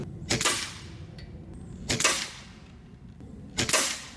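An Air Venturi Avenger Gen 2 bullpup PCP air rifle fires three sharp, crisp shots, evenly spaced about one and a half seconds apart, with quiet pauses in between.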